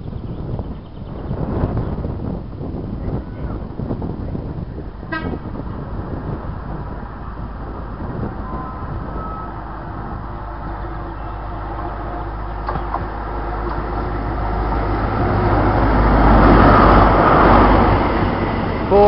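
A First Great Western HST train passes through Didcot Parkway station. A rumbling roar of traffic-like engine and wind noise swells louder toward the end, heard alone with no talking.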